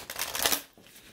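Tarot deck being shuffled by hand, a dense riffling and rustling burst that swells midway and then fades to a softer shuffle, close and fairly quiet with no talking.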